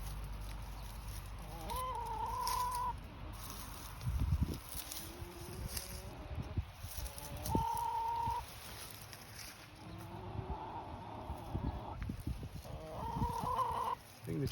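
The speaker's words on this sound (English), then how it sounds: "I think the chickens are a little excited to get in here and scratch around." A flock of chickens cluck and call repeatedly nearby, with rising, drawn-out squawks, while soft rustling and scratching sounds from the garden during an onion harvest come and go underneath.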